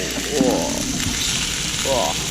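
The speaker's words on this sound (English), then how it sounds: "we're doing deep frying now" Continuous sizzling of bacon frying in a pan, steady and close, with brief voices murmuring underneath.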